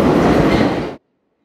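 Close, loud roar of a metro subway train running through the underground, a dense rumbling rush that cuts off abruptly to silence after about a second.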